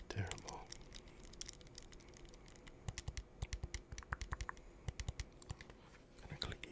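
Buttons on an ROG Ally handheld gaming console are clicked close up in a quick, fairly regular series of sharp plastic clicks, with soft rattling and faint handling noise.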